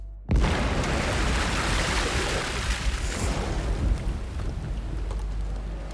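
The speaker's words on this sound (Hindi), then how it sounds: "एक जोर का धमाका हुआ।" A sudden loud boom bursts in, then settles into a long crackling, rumbling roar that fills the rest of the moment.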